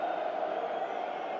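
Stadium crowd at a rain-soaked J.League football match between Gamba Osaka and Sanfrecce Hiroshima, roaring as one steady, dense wall of voices that holds at an even level throughout without any clear peaks.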